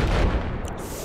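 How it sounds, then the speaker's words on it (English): Gunfire in the video game Battlefield 4, Hardcore mode on the Paracel Storm map: a dense, continuous roar of shots and booms filling the whole moment at steady loudness, with no voices over it. "Did I hear gunshots just now?"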